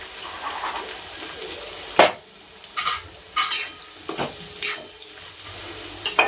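Cauliflower florets and a few peas frying in a pan, with sharp scraping and clattering strokes of a spoon against the pan at irregular intervals over a faint background hiss.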